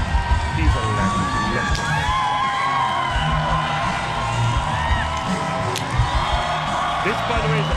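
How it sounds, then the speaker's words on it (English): An audience at a live comedy game show cheers, whoops and shouts loudly, with a sustained roar of excited voices rather than clear clapping and a voice speaking over it. "Give him a round of applause."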